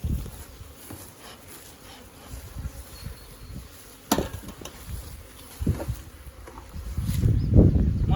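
Honey bees buzzing around a hive during honey harvesting, a steady low insect drone close by with occasional louder bursts as bees fly near, swelling toward the end.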